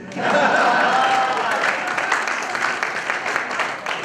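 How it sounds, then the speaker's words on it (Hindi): A conference audience applauds steadily at moderate volume, with a murmur of voices mixed under the clapping. "और अब आपकी तालियां उठेंगी।"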